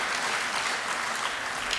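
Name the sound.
audience applause at a lecture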